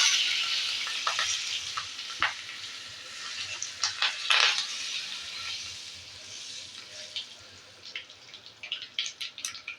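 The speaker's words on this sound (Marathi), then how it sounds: "नुसतं मोहरी जिरं आणि कढीपत्ता हिंग याच्यावरती फोडणी" Tempering of mustard seeds, cumin, curry leaves and asafoetida in hot oil for an onion-tomato chutney crackles and spits close by, with bursts of popping and sputter over a constant sizzle, swelling and fading as it is stirred.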